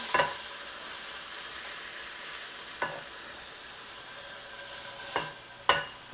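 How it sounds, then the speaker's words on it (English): Pieces of lamb browning in a frying pan give a soft, steady sizzle, close and fairly quiet, broken by a few sharp clinks and scrapes of a utensil moving the meat, with no talking. "we've got a little bit of colour going onto our lamb, also getting some caramelisation in the pan"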